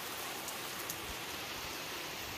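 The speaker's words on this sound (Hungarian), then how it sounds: "hogy álljon el az eső, tudjon visszamenni dolgozni." Steady rain falls outside in a broad, even hiss with scattered drops, filling the whole stretch without a break and no voices over it.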